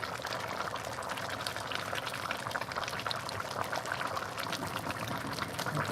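A pot of chicken and pumpkin soup boiling on high heat, a steady close bubbling and simmering that stays even throughout with no talk.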